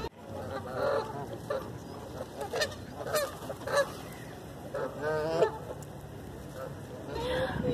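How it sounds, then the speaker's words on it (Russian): A pair of geese near a roadside home honk in scattered calls, some close and loud, over a soft background with faint voices. "А здесь вот еще у нас появились вот такие вот гуси"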